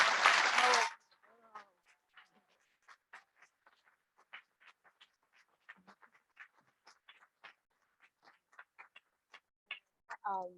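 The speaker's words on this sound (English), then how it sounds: "Let's give another round of applause for those wonderful poets." An audience at a book talk gives loud applause for poets that cuts off after about a second, leaving sparse, faint scattered taps and small sounds in a quiet room.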